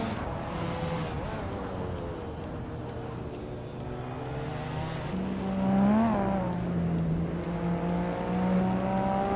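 Race cars, led by a classic 1989 Mazda RX-7 Turbo, run at Seattle Circuit Reverse in a racing video game, engines whining and rising in pitch as they accelerate, with occasional tire squeal and cars passing nearby.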